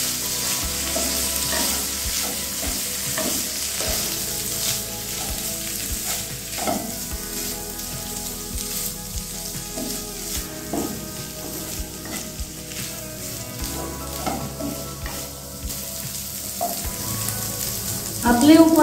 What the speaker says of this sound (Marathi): भाजीवरती आपल्याला पाण्याचा शिपका मारायचा आहे। परत भाजी मिक्स करून घ्यायची आहे।